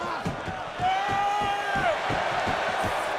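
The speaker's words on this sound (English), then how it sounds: "The crowd here at Barclays Center sounded very pro Austin Aries there for a moment." A wrestling crowd at Barclays Center during NXT TakeOver: Brooklyn II cheers Austin Aries, a steady roar broken by rhythmic clapping or stomping thumps, with a thin whistle-like tone over the top.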